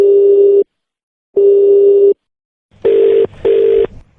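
Telephone tone on a call that is being cut off: two steady beeps of about 0.7 seconds separated by silence, then two shorter, harsher bursts close together, loud and clear with no voices.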